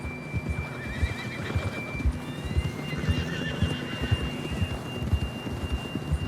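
A horse in a Wild West video game neighs and whinnies over a steady, rhythmic clip-clop of hooves, with constant ambient noise underneath and no talking.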